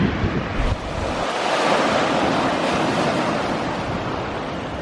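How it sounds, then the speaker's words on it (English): Waves washing onto Talland Bay beach in Cornwall, a continuous loud surf roar with wind buffeting the microphone, no voices. "So here we are on Talland Bay Beach."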